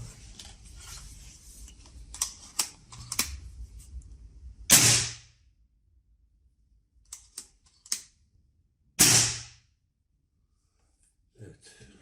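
A Reximex Meta PCP air rifle fitted with a silencer fires two sharp, hissing shots several seconds apart, each a muffled pop with a brief airy burst, after clicks and handling noises of loading.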